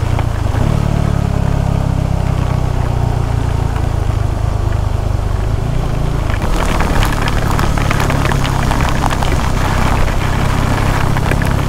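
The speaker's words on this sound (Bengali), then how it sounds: "ভাই এখন যা বৃষ্টি হচ্ছে না," Heavy rain pounds down during a KTM Adventure 390 motorcycle ride, a dense hiss of downpour growing louder partway through over the steady engine and road rumble, no voices.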